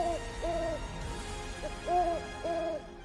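An owl hoots at night, five clear, evenly spaced calls close by against a quiet background, each a short wavering tone repeated in a slow rhythm.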